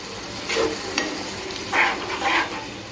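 Mutton sizzles in a hot pan while a spoon scrapes and stirs it in a few short strokes, close up with no talking.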